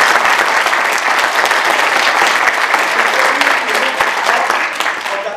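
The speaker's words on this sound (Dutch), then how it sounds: "Grote applaus voor de jongens." A theatre audience applauds child actors after a children's stage performance of Alice in Wonderland, a loud, dense, steady wash of many hands clapping that carries on throughout, with crowd voices mixed in.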